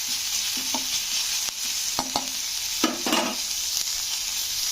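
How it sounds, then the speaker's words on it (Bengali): Washed neem leaves frying in hot oil until crisp, a steady bright sizzle punctuated by several scraping stirs of a spatula against the pan, close and even, with no talking. "তো নিম পাতাগুলোকে একটু মুচমুচে করে ভেজে নিতে হবে।"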